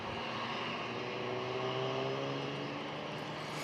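A JetBlue Airbus A321 jet at San Diego International Airport, a steady, continuous engine roar at constant loudness throughout, heard from outdoors at moderate distance.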